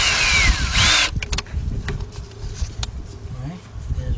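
Cordless impact gun with a 10mm deep socket on a long quarter-inch extension, removing starter bolts on a 2003 Nissan Altima; a loud rising-and-falling whine of the motor bursts for about a second, then quieter clatter and handling noise follow.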